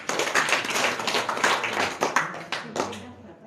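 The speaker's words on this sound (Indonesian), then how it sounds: "Tepuk tangan Bapak Mustak" A room of people claps for Mr. Mustak at a hypnosis training session, a short burst of close, busy handclaps with voices talking over them.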